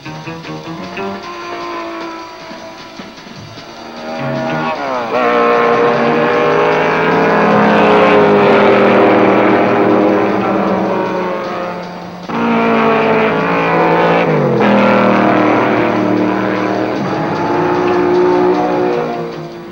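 1960s race cars, among them a Cobra, roar around a circuit and into the S bends, their loud engines rising and falling in pitch as they rev and shift, a continuous, close, overlapping drone of several cars with no voices.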